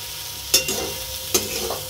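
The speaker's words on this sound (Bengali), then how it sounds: "কিন্তু এটাকে আমি নেড়ে নিলাম" Potato, onion and soybean curry with mustard paste being stirred in a pan, a spoon scraping twice in sharp bursts over a low steady sizzle, close and moderately loud with no talking.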